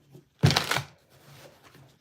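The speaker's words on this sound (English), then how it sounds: "I kind of just want to shuffle this up a little bit" A deck of cards shuffled once in a quick, close riffle burst, with a softer rustle after it in a quiet room.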